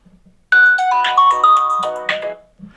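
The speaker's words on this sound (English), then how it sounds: "That was the Blackview ringtone." A loud electronic ringtone plays through a Blackview BV8900 rugged phone's loudspeaker, a bright bouncy melody of chiming tones lasting a couple of seconds, with faint background noise around it.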